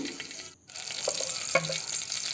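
Mustard seeds spluttering in hot oil in a kadai while tempering for Andhra-style ridge gourd chutney, a soft continuous crackle and sizzle with a few sharper pops, fairly quiet and with no talking.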